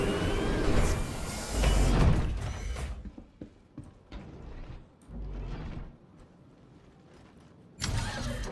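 Spaceship engines spin up in Star Citizen, a loud mechanical whoosh and rumble for about three seconds, then quieter clunks and hums before a second loud surge near the end, with no talking.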